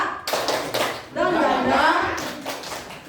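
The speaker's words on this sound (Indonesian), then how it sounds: "mari kita tepuk semangat dulu ya" An audience of teachers at an elementary school session claps a patterned spirit clap in quick bursts, with voices chanting along over the rhythm.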